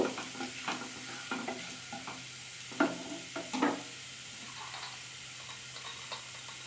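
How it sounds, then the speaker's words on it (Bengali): Ginger and spices fry gently on low heat in a pan, a quiet steady sizzle punctuated by soft scattered stirring clicks and scrapes, close and calm. "আমি এবার মশলাটা এক মিনিটের মতন ভেজে নেব"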